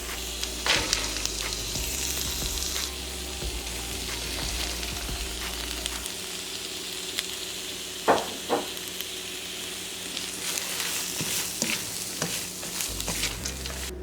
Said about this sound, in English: It's cooked down fast, so I'm going to get ready to go ahead and add in my coleslaw